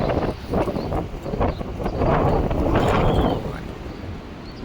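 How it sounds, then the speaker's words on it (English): High wind blowing at night during a tornado watch, a loud, continuous rushing roar with gusty surges that swell and ease over a few seconds. "See the wind blow here?"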